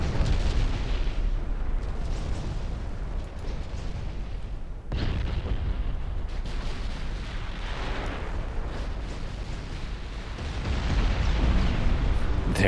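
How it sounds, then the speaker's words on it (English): Battleship main guns fire in the naval game Ultimate Admiral Dreadnoughts, heavy rumbling booms rolling under continuous low battle noise, with a sharp new blast partway through and another surge near the end. "Focus on the escorting ships. Includes using my battleship main guns."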